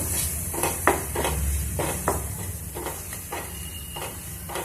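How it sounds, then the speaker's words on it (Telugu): Goat brain frying with ginger-garlic paste in a pan, a steady sizzling hiss broken by repeated scrapes and clinks of a spoon stirring against the metal, close and moderately loud with no talk. "అల్లం వెల్లుల్లి పట్టువాసన పోయేంత వరకు కొంచెం వేయించుకున్నాము"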